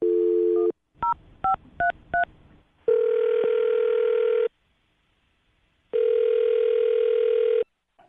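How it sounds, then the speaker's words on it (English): Touch-tone dialing: a steady tone, a quick series of short beeps, then two long ringback tones separated by silence. "I'm going to dial her phone number right now"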